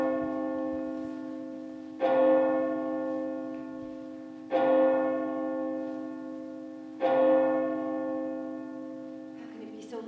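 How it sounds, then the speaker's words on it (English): A deep bell in a stage play tolls three times at slow, even intervals, each strike ringing out and decaying into a long humming resonance, loud and alone. "Scarcely an hour has passed, yet the bell rings again."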